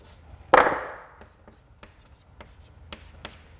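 During a statistics lecture, chalk or marker strikes a board sharply once, then scratches faintly in a few light, scattered strokes, close and quiet.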